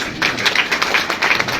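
An audience claps along together, a dense run of many hands beating in fast, slightly uneven rhythm, fairly loud and close, with no talking over it.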